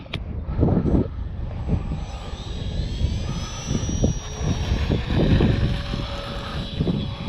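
A Cessna TTX model airplane takes off outdoors, its steady motor whine rising in pitch over a windy rumble with gusty buffeting.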